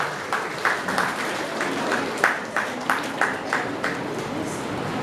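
An audience at a school award ceremony for Rabindra Jayanti gives steady applause for prize winners, with a moderately loud, even patter of many hands and a few sharper claps standing out.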